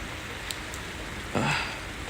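Light to moderate rain shower in Boston, a soft steady hiss of falling drops with a brief louder patch, close and alone without voices.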